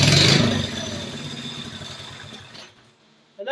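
Axis MB200 engine with a sticking clutch runs loud and close, then winds down steadily over a couple of seconds into near silence before a brief noise returns at the end.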